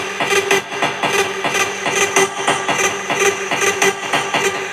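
A big room EDM drop made in FL Studio, with layered synths and a drop lead riding a kick rhythm, plays loud and dense on its own with steady pounding beats and bright sustained synth chords.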